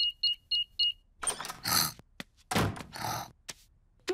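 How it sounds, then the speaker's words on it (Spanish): A house alarm being switched off in a cartoon home: four short, even electronic beeps sound close and clear, followed by clunks, rustles and movement sounds. "Voy a apagar la alarma."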